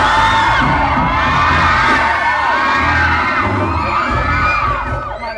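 A young studio audience at a Thai television variety show screams and cheers continuously, a loud, dense wall of high shrieks and whoops that stays steady before easing slightly at the end.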